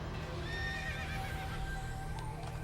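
Kazegami, a horse in the video game Okami, whinnies in a bright rising neigh over a constant low game background hum, with no talking.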